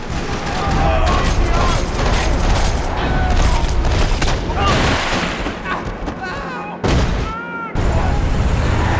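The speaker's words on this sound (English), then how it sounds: "Another parking lot rattling with gunfire." Dense, continuous gunfire and booming blasts from a shootout in a parking lot in the video game Max Payne 3, loud and relentless with brief dips, mixed with game music and voices.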